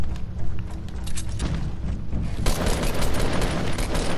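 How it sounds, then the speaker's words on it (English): Dense, loud gunfire from the video game Fortnite, rapid overlapping shots and booms filling the clip without pause and growing heavier about halfway through. "Also, you can keep shooting."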